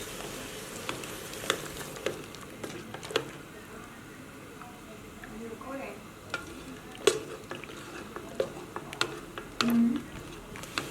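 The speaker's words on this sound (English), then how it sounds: "I'm just constantly stirring while adding the sugar." A spoon stirs sugar into liquid heating in a pot for home-made dry beer, giving quiet, repeated scraping and swishing strokes with a few sharper clinks at close range.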